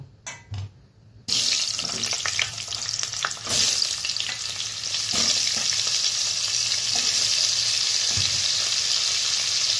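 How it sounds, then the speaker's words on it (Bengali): Cauliflower frying in oil left over from frying fish: after a quiet start, a sudden loud burst of hissing sizzle as the florets hit the pan, settling into a steady close crackle with occasional stirring knocks. "এই একই তেলে ফুলকপিগুলো ভেজে নেব।"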